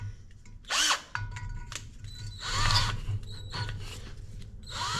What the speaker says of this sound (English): So I just put my drill on here.